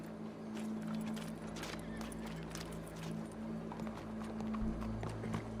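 Horse hooves clip-clop at a steady walking pace in Red Dead Redemption 2, moderately close over a low, constant background hum, with a faint whinny-like sound and no talk.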